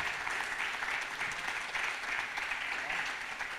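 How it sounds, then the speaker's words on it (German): A roaring crowd at a Bochum poetry slam between parliamentary candidates applauds a winner, thick continuous clapping at a steady level throughout. "das kann ich unter eurem tosenden Applaus bekannt geben"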